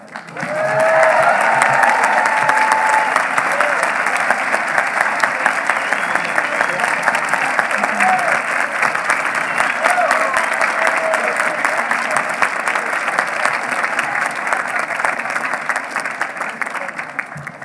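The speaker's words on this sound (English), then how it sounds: "Okay, we can applaud for them." Sustained applause from a commencement audience honoring law school graduates receiving master's degrees in energy regulation and law, a steady dense clapping that holds loud and even for the whole stretch with no voices on top.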